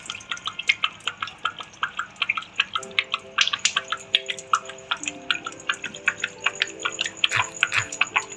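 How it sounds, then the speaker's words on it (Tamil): Water being poured into a household water pump motor makes rapid, irregular dripping and glugging with bubbling tones as the air escapes, close and clear, with no talk. "இப்போ அந்த பபிள்ஸ் நிற்கிற வரைக்கும் நீங்கள் தண்ணி அதை ஊற்றிடுங்க"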